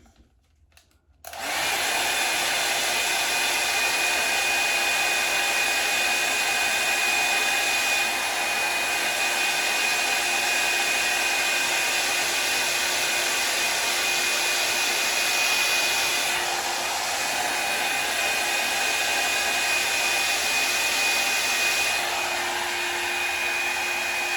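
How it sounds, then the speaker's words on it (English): A hair blow dryer drying a wet hairpiece switches on after a brief quiet moment and runs continuously with a loud, steady whine and whoosh. "I'm gonna take this piece with my blow dryer."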